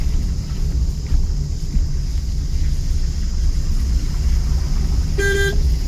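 A car engine rumbling steadily and loudly from inside while a learner driver works through the gears, with a short horn toot near the end and no clear speech.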